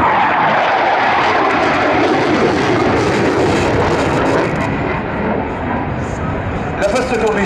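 French Navy jet aircraft at the 2019 La Ferté-Alais air show, a loud continuous roar with steady broadband rush throughout, while someone speaks over it.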